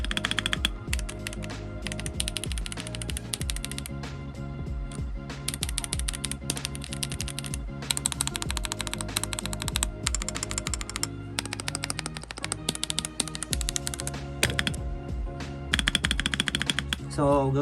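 An RK RM75 mechanical keyboard with lubed switches is typed on in a fast, steady, deep clacking run of keystrokes, close and loud, with bursts and short pauses and a voice talking now and then.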